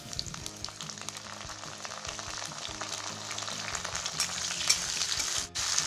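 Potatoes fry for masala khichdi, producing a continuous crackling sizzle with light stirring scrapes that grows slightly louder toward the end before a brief dip, with no speech.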